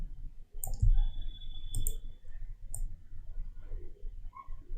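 Three crisp computer mouse clicks at the desk during graphic design work, spaced about a second apart, close and fairly quiet over a low background rumble, with no talking.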